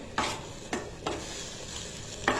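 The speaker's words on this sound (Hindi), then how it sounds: "लहसुन है, मिर्च है कूटी हुई, और ज़ीरा, सूखा धनिया और घी एक साथ ही मैंने डाल लिया था।" Garlic, crushed chili, cumin and dried coriander sizzle in ghee as a tadka, with a soft continuous frying hiss broken by several distinct stirring scrapes of a spoon in the pan, fairly quiet and close.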